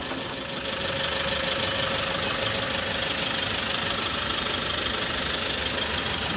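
A Toyota Innova engine, being checked for wheel bearing noise, runs with the accelerator pressed, a steady loud mechanical drone that swells slightly at the start and then holds constant, with no voices.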